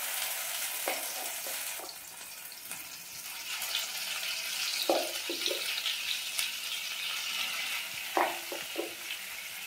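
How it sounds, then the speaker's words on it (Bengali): Ground green pea paste fries in a pan with black cumin and asafoetida for kachori filling, a soft, fairly faint continuous sizzle broken by a few spoon scrapes and taps. "এরপর ভালোভাবে ভেজে নেব।"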